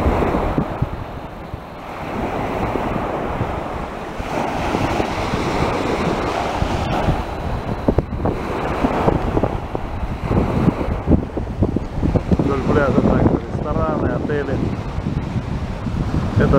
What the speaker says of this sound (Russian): Прилив, но ветерок.